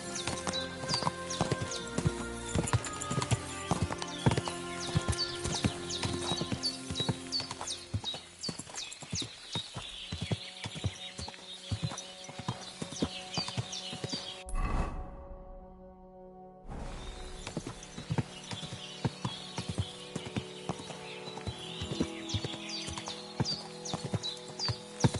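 Horse hooves clip-clop in a steady, continuous rhythm with tonal background sound in the video game Kingdom Come: Deliverance II. They pause for a moment, then resume.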